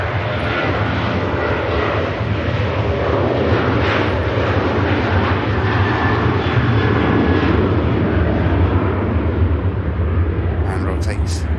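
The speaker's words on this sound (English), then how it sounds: "Aircraft off to Milan." An airliner taking off from Manchester Airport bound for Milan, a sustained loud jet roar with deep rumble and hiss throughout, and someone talking over it.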